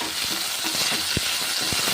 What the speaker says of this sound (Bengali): গরম এক মিনিট হয়ে গেছে উচ্ছেগুলো কড়াইয়ের মধ্যে ছেড়ে দিচ্ছি